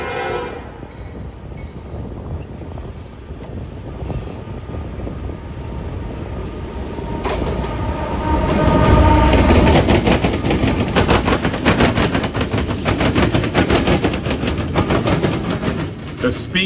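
CSX and Norfolk Southern freight trains crossing rail diamonds in Marion, Ohio at about 25 mph. Wheels hammer the crossing in loud, rapid, repeating bangs over a heavy rumble that builds and stays close throughout.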